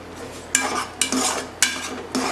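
A spoon scrapes and stirs carrot halwa with cardamom powder in a metal pan, four distinct sweeping strokes with clinks against the pan's side, close and fairly loud with no talking.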